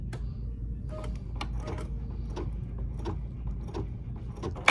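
An embroidery sewing machine starts stitching a sampler block, giving quiet, irregular mechanical clicks and taps over a low steady hum, close by with no talking.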